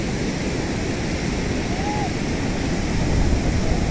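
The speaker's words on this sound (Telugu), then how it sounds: "ఇవాళ సముద్రం ఎంత అగ్రెసివ్గా ఉందో" Rough, aggressive sea surf breaks steadily on a beach, a dense continuous roar with wind noise and no distinct pauses between waves.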